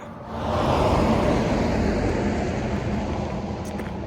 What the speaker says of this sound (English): I'm gonna wait for this car to go by